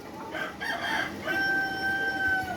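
Desi laying hens on a farm cackle and cluck in a short burst, then one rooster-like call rings out clearly and holds for over a second, moderately close, without speech.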